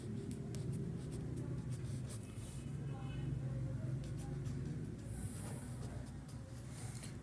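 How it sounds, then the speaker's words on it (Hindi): Marker or chalk writing on a board during a physics lesson, soft continuous scratching strokes with brief squeaks, faint and close, over a steady background hum. "और यहाँ पे मैं लिख रहा हूँ हाफ लाइफ्स"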